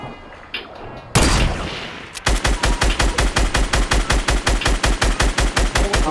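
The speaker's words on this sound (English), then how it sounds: "Keep on shooting him." Gunfire in Fortnite: a single loud blast, then a rapid, evenly paced stream of close gunshots running steadily to the end, no voices.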